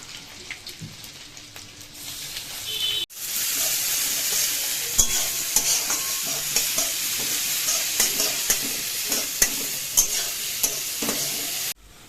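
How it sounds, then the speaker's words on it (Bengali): Beetroot sizzling in hot oil in a pan with fried ginger and green chilli, a steady bright crackle that jumps in loudness as the beet goes in, with scattered scraping clicks of stirring and no talk. "এবার আমি বিট গাজরটা দিয়ে দিচ্ছি"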